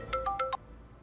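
A mobile phone rings with an incoming call: four short electronic tone bursts in quick succession, fairly quiet and close, then stopping, with no talk over it.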